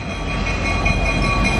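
Two CN SD60 diesel locomotives lead a westbound local freight near Battle Creek, Michigan, giving a loud, steady rumble and rolling roar of the passing train with a faint high whine, close by and unbroken.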